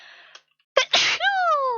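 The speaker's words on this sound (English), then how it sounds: "Oh, look at me sneeze." After a faint sharp inhale, a single loud, close sneeze bursts out, followed by a short rising voiced sound trailing off.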